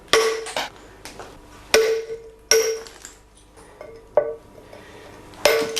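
A mallet strikes a steel chisel while a stone mason hand-carves a medieval-style disc-shaped stone stela, giving sharp, ringing metallic blows, about seven irregularly spaced strikes, each decaying quickly in a quiet workshop.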